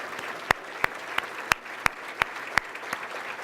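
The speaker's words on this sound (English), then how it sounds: "Can we please give them a round of applause?" Scattered audience applause for city council members at a State of the City address, a handful of sharp individual claps spaced about every third of a second over a low room murmur.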